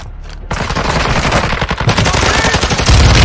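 Rapid automatic gunfire in the video game Call of Duty: Warzone 2.0, loud and continuous bursts of close shots with overlapping fusillade that grows heavier toward the end.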